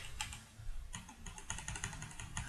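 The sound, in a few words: mechanical keyboard typing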